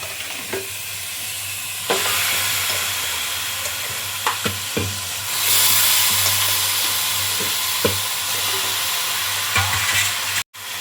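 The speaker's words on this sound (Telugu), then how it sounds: "ఇప్పుడు ఇదంతా కలిసేలాగా కలుపుకున్నాను." A spoon stirs chicken curry in a pan over ginger-garlic paste, giving a steady sizzle and frying hiss broken by several sharp scrapes and knocks against the pan, close and fairly loud with no talking.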